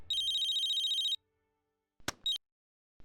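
Electronic phone ringtone for an incoming international call, a rapid warbling trill that rings for about a second, stops, then returns in brief bursts after a short click, loud and close with no voices.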